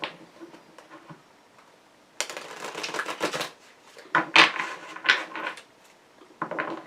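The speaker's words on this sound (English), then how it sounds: "I'm just going to give it a good shuffle whilst I read your comments." A tarot deck is shuffled close up in repeated bursts of rapid riffling card clicks, separated by quieter pauses of handling noise.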